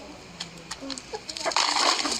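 A chicken clucks a few times in short bursts amid background chatter, with a louder rustling, shuffling noise toward the end.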